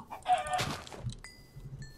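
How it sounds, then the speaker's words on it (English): Chickens cluck and squawk in Minecraft during hardcore survival co-op play, a brief burst of fowl calls followed by faint thin tones, fairly quiet and with no talk. "More chickens."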